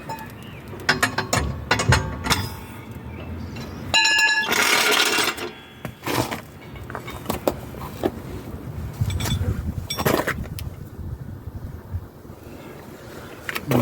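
A ratchet tightens nuts on the lower control arm of a Volvo XC90. Bursts of close, quick metallic clicking run through steady mechanical clatter and wind noise over the microphone, and nobody talks.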